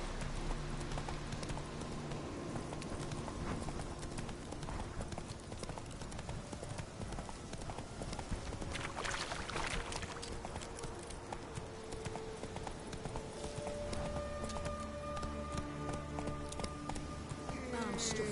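The horse Roach gallops in The Witcher 3, a rapid rhythmic clip-clop of hooves throughout, with a voice speaking over it at times.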